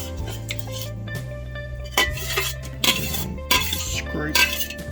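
A metal spoon scrapes leftover curds out of a container while making Viking blaand, giving repeated harsh scraping strokes with clinks, close by over a steady low hum.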